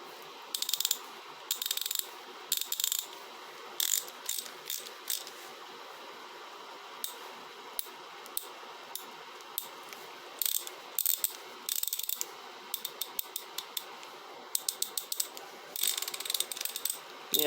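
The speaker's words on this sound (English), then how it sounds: "this is a gorgeous working Grey Canada 3/8 ratchet now" A Grey Canada 3/8 ratchet with a Craftsman socket fitted clicks in repeated bursts of rapid, crisp metallic ticks, close and clear against quiet room tone, with short pauses between spins.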